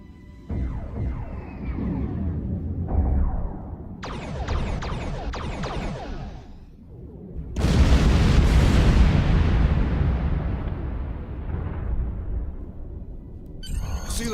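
Starship weapons fire and explosions from Star Trek Online gameplay: a series of energy-weapon bursts, then a big roaring explosion that rumbles and slowly decays, with more sharp blasts near the end.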